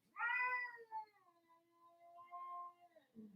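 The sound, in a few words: cat meowing, wanting into the room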